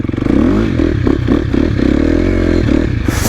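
Loud KTM 250 dirt bike engine revving and burbling up close while drifting in snow, pitch rising and falling as the throttle is worked, with some clattering.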